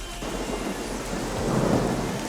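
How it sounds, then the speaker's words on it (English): Steady rain falls outdoors with rolling thunder rumbling underneath, a continuous wash of noise that swells slightly in the latter half, with no voices. "And it's starting to rain."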